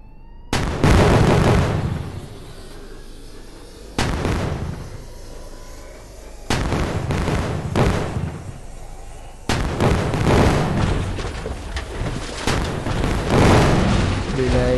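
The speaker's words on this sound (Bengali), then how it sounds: "এখন এগুলো ব্লাস্ট করে দিই" Vehicles blasted apart in GTA 5 on mobile, four loud, heavy explosions spaced a few seconds apart, each a sudden deep boom trailing into crackling debris and rumble, while someone talks.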